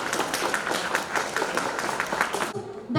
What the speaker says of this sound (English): Let us all clap and welcome the esteemed Chief Guest of this occasion.